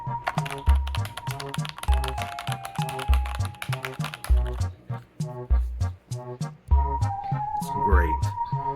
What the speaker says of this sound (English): And it is a full range keyboard. It has all the function keys. It has your little number pad on the side.